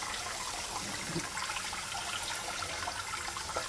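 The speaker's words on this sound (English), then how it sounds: "And then I will hold it above the water again, and then spray until the bowl is full." Water sprays steadily into a bowl of semi-hydro substrate, a continuous hissing, splashing stream at fairly low, even volume with no talking over it.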